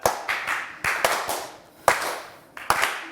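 A few people in a word game show studio clap in loose, uneven bursts, close and fairly loud, with gaps between the rounds of clapping.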